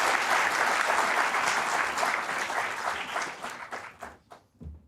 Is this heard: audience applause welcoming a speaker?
yes